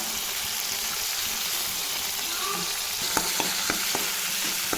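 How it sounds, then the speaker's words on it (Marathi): Finely ground onion fries in oil in a pan for chole masala, giving a constant close sizzle and hiss, and a few sharp utensil taps come near the end. "आणि नंतर मी याच्यामध्ये हा दळलेला बारीक दळलेला कांदा टाकला हे बघा कांदा छान परतोय"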